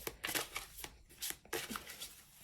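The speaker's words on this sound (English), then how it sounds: "let's shuffle for Phoenix." A quick run of tarot card shuffling, crisp riffling bursts close up with brief pauses between, no voices.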